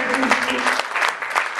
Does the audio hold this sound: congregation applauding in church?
yes